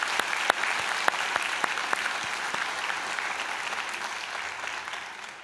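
A graduation convocation audience breaks into sustained applause, dense clapping from a large hall crowd with a few sharp, close hand claps standing out early before the sound evens into a steady roar.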